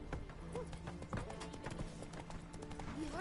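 The horse Roach galloping in The Witcher 3, with quick rhythmic hoofbeats clip-clopping steadily under a layer of game sound.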